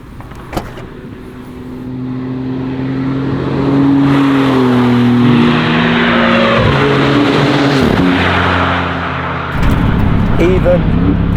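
Maserati MC20 supercar accelerating on a country road, engine note climbing loudly through the gears with a steady roar and a shift near the end, heard from the cabin.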